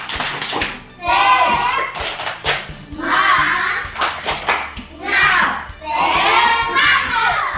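A classroom group does a rhythmic tepuk semangat clapping cheer, bursts of patterned claps alternating with loud chanted voices, close and lively.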